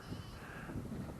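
Sheep and lambs bleat in a field on a country walk around Broughton Castle, a faint, wavering calling set against steady wind noise outdoors.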